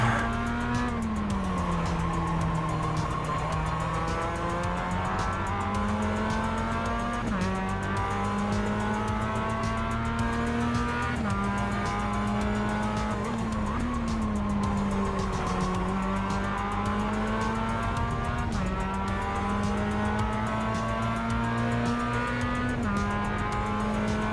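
A Mazda MX-5 race car at Winton circuit, its engine droning loud and unbroken, the pitch climbing and dropping as it accelerates and shifts through a race, with faint tire noise underneath.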